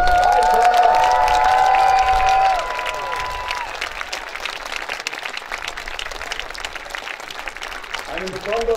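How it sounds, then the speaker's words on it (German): A large crowd cheers and applauds loudly at a knights' tournament at the Wallensteintage festival, with a whistle-like tone at first, then sustained clapping and shouts that stay strong throughout. "Und nochmals einen lauten Abschlussjubel für unsere Reiter."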